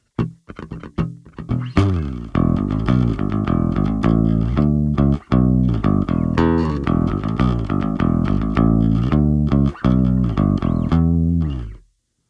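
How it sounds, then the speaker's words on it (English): A low, distorted bass riff played continuously on the low string, notes sliding and repeating in a steady groove, loud and close, ending abruptly. "transfer as much of that riff to the low string as I can manage, which would sound something like this."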